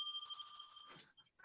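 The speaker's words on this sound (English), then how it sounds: "Deserved a bell." A bell sound effect rung on a baseball-themed game show, a single bright ringing tone that sustains and fades within a second, followed by brief faint noise.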